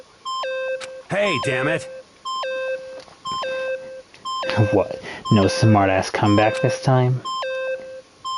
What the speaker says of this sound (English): Stop that goddamn beeping and say something!